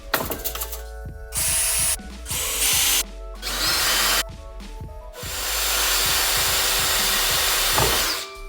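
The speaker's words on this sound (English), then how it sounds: "let's drill some holes." A power drill whirs in several short bursts while drilling holes in PVC pipe, then runs in one longer sustained burst, loud and close with gaps between.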